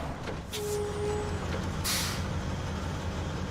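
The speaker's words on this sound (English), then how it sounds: "This truck makes some weird noises." A heavy truck in Gran Turismo 7 rumbles at low pitch while sharp bursts of air-brake hiss and a short whine cut through, loud and close with no talking.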